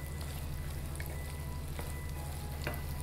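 Cassava pieces sautéing in a pan for a spiced masala snack give a steady, even sizzle with a faint low hum beneath, unbroken for the whole stretch and with no voices.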